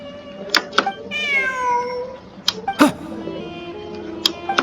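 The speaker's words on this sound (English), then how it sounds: "Look, a cat." A cat meows in Genshin Impact, with a clear rising and falling mew near the start. Sharp game clicks and effects are scattered around it, and a low musical tone sits underneath.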